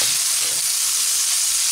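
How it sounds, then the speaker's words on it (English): Onions with Italian seasoning sautéing in a pan, a dense, even hiss of sizzling oil that holds steady and alone for under two seconds. "Just gonna saute this for a few more minutes"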